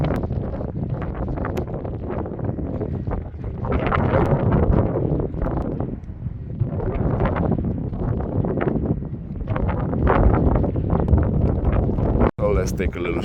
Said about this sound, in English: The wind is blowing today like crazy.